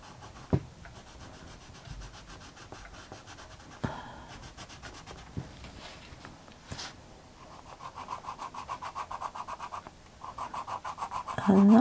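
A castle green coloured pencil rubs across paper in short scratchy strokes, with scattered taps, then a run of quick rhythmic back-and-forth shading that grows louder, close and alone.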